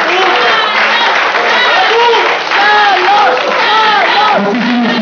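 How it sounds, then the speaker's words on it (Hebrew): Audience at the Mr. Israel 2016 bodybuilding contest, heavyweight category, applauding and cheering loudly and continuously, with whoops and shouted voices throughout a dense indoor crowd roar. "ובכולם חיות כפיים"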